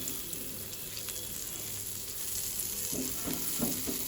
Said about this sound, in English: Onto this I'm going to add this mirchi as well as my garlics. And I'm going to saute them really well.